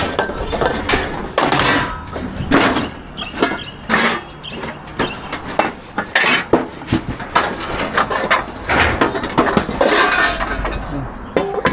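Metal pots and pans clatter and clink repeatedly nearby, with irregular knocks and scrapes as they are shifted around, and faint background chatter.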